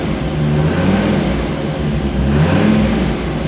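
A Dodge Viper's engine revs steadily and loudly for a few seconds, a continuous low growl with slight rises in pitch and no talking over it.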